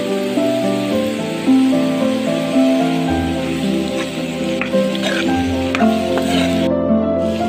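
Potato pieces frying in a pan with salt and chili for an aloo methi fry, giving a steady, close sizzle with faint stirring clinks and no talk.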